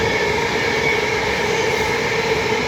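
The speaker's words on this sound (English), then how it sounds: "Fast train." A fast train on the Merseyrail Wirral Line rushes past with a steady, loud roar and a droning hum. The sound is close and unbroken for nearly three seconds.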